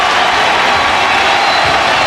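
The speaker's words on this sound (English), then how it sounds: "The crowd now in a frenzy with 2 minutes and change" A basketball arena crowd roars in a frenzy during an Alabama–Auburn college game, a loud, dense, continuous wall of cheering and shouting with no pauses.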